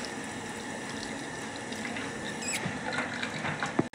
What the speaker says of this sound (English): Now I'm gonna wash this.